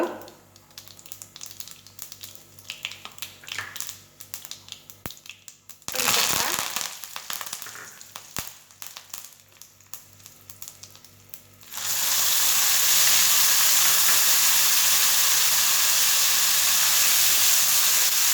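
Onion and garlic paste sautéing in hot oil with cumin and asafoetida for a Konkani-style jackfruit curry, with scattered faint clatter at first, then a loud, steady hiss and sizzle taking over.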